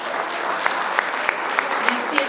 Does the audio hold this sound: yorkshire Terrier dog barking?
no